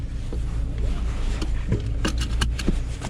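A used Mini Cooper rolling down a multi-storey parking garage ramp, a low steady engine and road rumble with intermittent sharp creaks and rattles from the front suspension joints, loudest toward the end.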